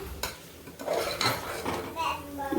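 A spiced mixture for beetroot rice is stirred in a pan, a spoon scraping and clinking against the metal in irregular strokes, with a faint sizzle beneath, close by and moderately loud.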